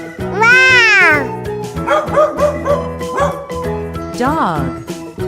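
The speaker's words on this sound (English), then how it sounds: "Dog." A wooden animal toy plays a dog barking sound with tonal, electronic-sounding woofs: a long rising-falling note, then a quick run of short barks and a final yelp, close and loud with a voice speaking around it.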